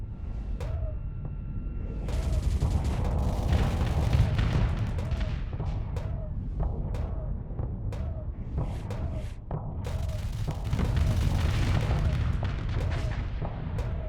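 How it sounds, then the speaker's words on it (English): Gauss cannon fire in the space combat game Starsector pounds against ship shields in a steady stream of heavy booming shots, dense and rumbling with repeated sharp impacts throughout. "But you see how quickly the shields get popped with Gauss cannon."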